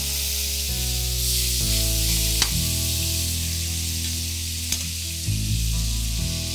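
A pork chop fries in butter with a garlic clove, giving a loud, steady sizzle throughout, with a couple of sharp spatters and soft tonal music underneath.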